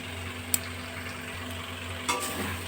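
Spice paste for paneer dalna sizzles and fries in oil in a pan, a steady soft crackle with a few sharp spoon clicks against the pan, no voices.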